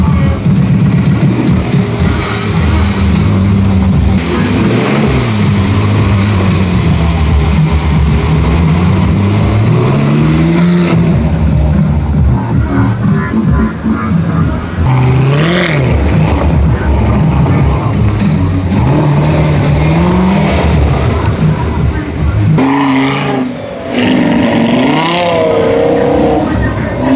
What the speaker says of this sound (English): So we're in the Bentley convertible Mulliner